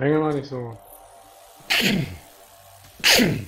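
Two loud, sharp sneezes burst out during a voice chat in a video game raid, spaced about a second apart, each one a sudden breathy blast. A voice speaks briefly just before them.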